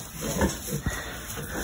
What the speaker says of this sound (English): Got some piglets here.